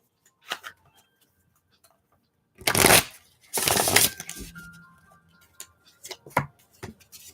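Tarot cards are shuffled by hand in bursts: two loud riffling rushes in the middle, with scattered lighter taps and slides of the deck before and after, close and otherwise quiet.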